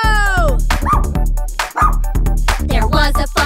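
A cartoon farm dog in a nursery rhyme song barks and yips several times in quick bursts, loud and close, over bouncy music.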